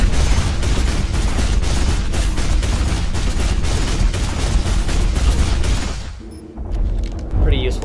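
A mech's weapon in the Hawken game fires continuously in a dense, booming stream of rapid shots for about six seconds, then drops off, leaving quieter mechanical whirs and tones.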